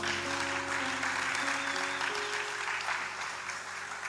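A church congregation breaks into a burst of loud, steady clapping that fills the room, sustained for several seconds and tapering slightly toward the end, with tones of music held underneath.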